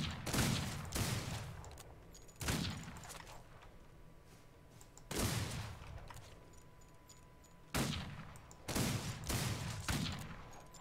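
Pistol shots in the Outlaws of the Old West video game, fired in short bursts of two or three with pauses between, each crack loud with a rolling tail and faint mechanical clicks under them, no speech.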